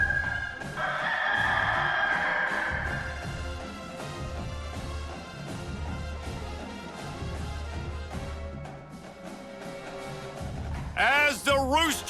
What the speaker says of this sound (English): as the rooster crows